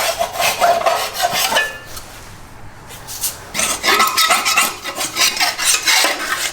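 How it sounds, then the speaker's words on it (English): A putty knife scrapes dried material off the deck of a Wright walk-behind mower in steady, close, rasping bursts with a short pause in the middle. "I just scrape everything good and clean."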